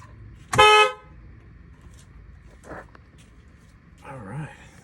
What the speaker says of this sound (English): Now it should honk.